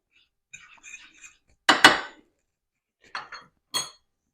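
A utensil mixes flour seasoned with Old Bay, salt and black pepper in a bowl. Soft scraping is punctuated by a few sharp, close clinks and knocks against the bowl, in short separate bursts with pauses between.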